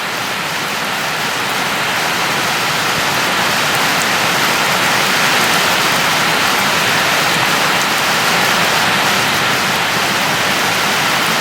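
Heavy rain falling steadily on ducklings huddled together outdoors: a dense, even hiss of drops hitting the surface, loud and unbroken throughout, with no voices.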